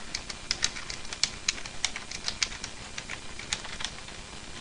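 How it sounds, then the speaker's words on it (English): Light, quick clicks of typing on a computer keyboard patter in an irregular rhythm, soft and close against a faint background hiss. "So let's just type something."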